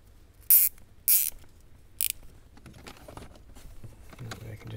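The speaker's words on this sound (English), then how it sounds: "I'm just going to grab a piece of zip tie here. Just going to zip it around." A plastic zip tie ratchets around a bundle of RCA and remote cables during a subwoofer and amp install in a Jeep JL Wrangler, giving three short, sharp zipping bursts close to the mic, with quiet handling noise after.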